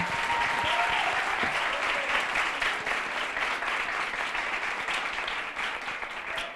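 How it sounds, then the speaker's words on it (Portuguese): A university debate audience applauds the student technical team with continuous, full clapping from many people, steady and moderately loud from start to finish. "Vamos, inclusive, aplaudir a nossa equipe técnica agora."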